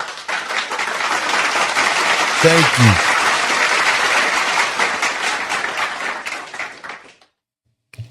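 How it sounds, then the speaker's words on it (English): Sustained applause fills most of the clip, dense and steady, with a brief spoken thanks partway through before it cuts to silence near the end. "give yourself a round of applause"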